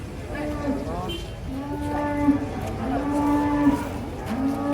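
Several large beef cattle low and moo in overlapping calls, fairly close, with drawn-out tonal bellows continuing throughout, at a livestock market.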